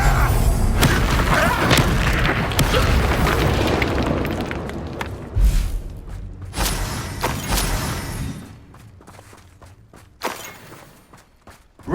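Blasting curse explosion in Hogwarts Legacy: a roaring, sustained burst of booming, shattering debris fades over several seconds, with scattered thuds, cracks and impacts continuing as the blast dies down; a brief voice is heard.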